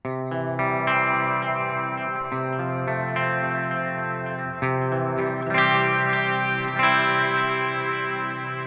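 Sustained tonal music drenched in echoing delay and washy reverb, with repeating tails trailing each note and chord, bright and loud throughout.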